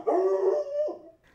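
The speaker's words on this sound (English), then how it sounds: "he just barks excessively." Great Dane giving one deep, drawn-out bark-howl that wavers and trails off, close and alone.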